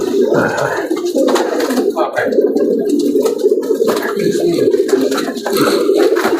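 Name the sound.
new pigeons cooing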